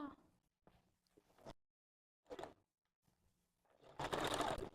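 A sewing machine backstitches through a wig, running in short bursts with pauses between, the last burst louder and denser; no one talks.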